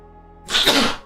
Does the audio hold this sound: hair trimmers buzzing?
no